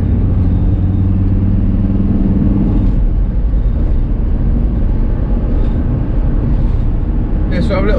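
A Volkswagen T4 Transporter van on the move, giving a steady, loud engine drone and road rumble throughout, with an engine note that shifts partway through and a brief rattle near the end.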